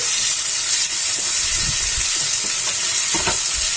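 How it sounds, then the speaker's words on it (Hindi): Ginger garlic paste fries in a hot pan with a steady loud sizzle and hiss, while a spoon stirs it in a few scraping strokes, close up and without talk. "इसे भी हमें 2 मिनट तक भूनना है।"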